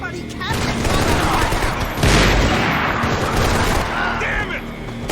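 Dense, continuous gunfire in the shooter Max Payne 3, a loud fusillade of overlapping shots and booms running through the whole stretch, with shouted voices mixed in.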